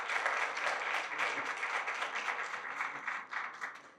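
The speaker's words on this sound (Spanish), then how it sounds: "Démosle un aplauso aquí a Lisbeth." Audience clapping for a patient brought up during a Spanish-language health talk, a fairly quiet, distant-sounding round of many hands with individual claps audible, gradually thinning toward the end.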